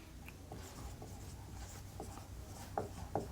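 Handwriting by pen on paper makes soft, faint scratching strokes with a few sharper taps near the end, and nobody speaks.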